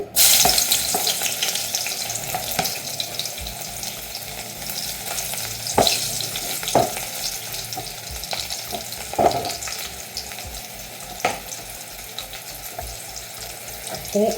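Garlic sizzles and fries steadily in hot coconut oil in a pan, a continuous close crackle with occasional stirring scrapes, no talking.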